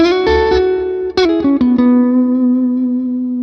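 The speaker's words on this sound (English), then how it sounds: "Let's hear the reverb here." An electric guitar runs through the Amplitube 5 Mesa Boogie amp with reverb on, playing a few ringing notes and a short slide before one long note decays into a smooth, lingering tail. The playing is loud and clear, with no speech.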